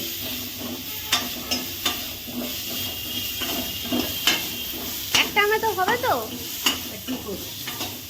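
Leafy greens (shak) fry in a pan while being stirred: a continuous close sizzle and hiss with regular spatula scrapes, and someone talks briefly over it midway.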